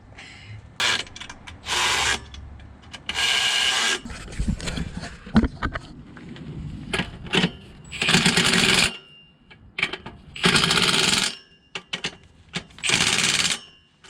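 A wrench tightening exhaust bolts under a car, with loud bursts of ratcheting clicks in repeated runs separated by short pauses and scraping metal handling sounds.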